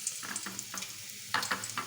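Garlic sizzling in hot oil in a pan, a steady close crackle with small bursts of spitting and frying, no voices.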